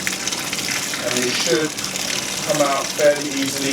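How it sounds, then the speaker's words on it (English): Tap water runs steadily while a rabbit is gutted by hand, a constant gushing wash beneath someone talking close by. "Keeping that water flowing."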